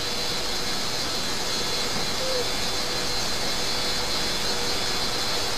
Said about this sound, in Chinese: 然后这边我们也可以看到，飞机正在起飞